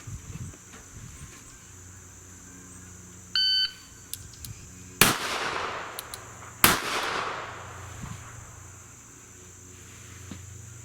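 Two sharp, loud shots from a Kimber K6s revolver fired at targets on a pistol qualification range, spaced over a second apart, with a short electronic timer beep just before them and a steady high hum underneath.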